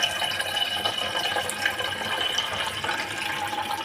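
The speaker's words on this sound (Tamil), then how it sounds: "இப்போ நம்ம பருப்பு தண்ணி என்ன பண்ணுறோம் கொஞ்சம் இதில் மேலாக ஊற்றிக்கிறோம்" Lentil cooking water pours steadily into a pot for a few seconds, a continuous splashing trickle close by with no talking.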